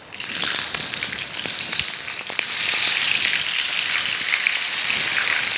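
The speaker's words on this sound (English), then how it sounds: "We heat some oil for deep frying and we'll add the Karelas to this." Stuffed karela, bitter gourd squeezed out before cooking, deep frying in hot oil, a steady close crackling sizzle with dense bright spitting that holds throughout and grows slightly louder midway.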